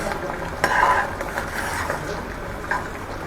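Samak rice kheer bubbling in a pot on the stove, a soft continuous simmer with a few light stirring scrapes and small clinks close by.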